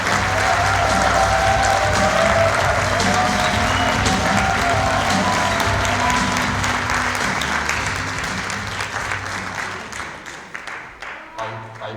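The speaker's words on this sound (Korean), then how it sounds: "최인철 교수님을 뜨거운 박수로 모셔보겠습니다" Sustained applause from a large audience, steady and dense for most of the stretch, then thinning out toward the end with scattered claps.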